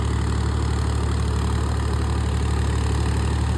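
A close engine idles loudly and evenly with a steady low throb and no pauses. It is an improved MZIP engine with a strong RRL cooling system, running alone.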